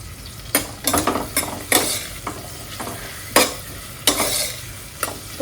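Fennel seeds and poppy seeds fry in a pan, a close crackling sizzle broken by repeated scraping stirs that come in quick irregular bursts, about a dozen strokes, with no talking.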